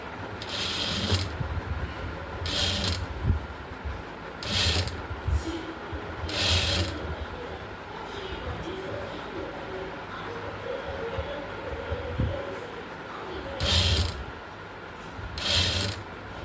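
A sewing machine stitching a frock nighty, with rapid mechanical clattering in short bursts of about a second, separated by quieter pauses, close and moderate in level.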